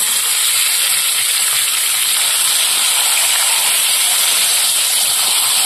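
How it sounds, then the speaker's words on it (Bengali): Marinated chicken pieces hit a pan of browned fried onions and sizzle loudly and steadily, a dense close hiss with no break and no voices. "পেঁয়াজটা লাল হয়ে গেছে, এবার ম্যারিনেট করা মাংস দিয়ে দেবো।"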